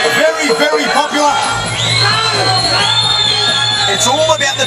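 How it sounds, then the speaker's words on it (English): A dense, loud crowd roars steadily at a Muay Thai fight between George Groth and Matt McTavish at Eruption Muay Thai 5, with whoops and shouts rising above the babble throughout and voices mixed in. "you can hear the crowd getting behind their favourite fighter"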